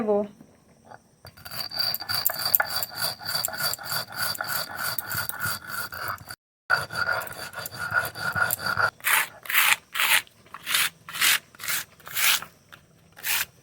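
Dried red chillies and roasted fenugreek are ground on a grinding stone for mango pickle, giving repeated rhythmic rasping strokes close up that grow quicker and more distinct toward the end, with one brief pause midway.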